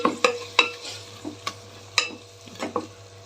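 Close scraping and tapping of a spoon stirring amaranth-leaf rice in a pan, in irregular strokes, over a faint sizzle.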